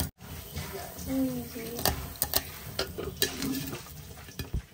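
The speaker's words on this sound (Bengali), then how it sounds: "এখন আমি নিসার্গের জন্য রুটি আর ডিম ভেজে দিচ্ছি" Roti and eggs frying in a pan, a continuous sizzle broken by sharp scrapes and taps of a utensil against the pan, close by, with a voice briefly speaking underneath.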